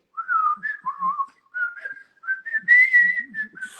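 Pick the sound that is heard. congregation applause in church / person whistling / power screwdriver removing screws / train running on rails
person whistling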